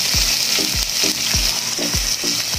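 Garlic and ginger sizzling in a hot pan for chicken tinola, a loud, continuous close frying hiss with a repeated low thud about every half second as the pan is stirred, with no voices.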